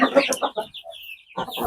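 Chickens cluck and peck at ground vegetable feed, a few short close clucks in quick bursts, then a brief pause and more clucking.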